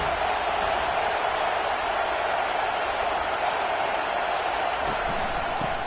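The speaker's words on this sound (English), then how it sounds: "But this crowd is fired up. Listen to this noise here." A college football stadium crowd roars in a steady, dense wash of cheering that stays loud and constant throughout, heard at a distance with no single voices standing out.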